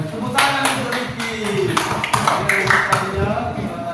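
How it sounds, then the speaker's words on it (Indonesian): A classroom of students claps for Ricky, a burst of quick, uneven hand claps close by, mixed with a few voices over about four seconds. "Tepuk tangan untuk Ricky."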